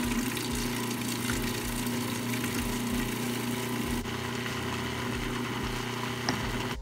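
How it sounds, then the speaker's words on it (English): A blender runs steadily, whirring as it mixes a whole egg and water into mayonnaise for a burger sauce, with a constant low motor drone and no talking. "Lid on, blend."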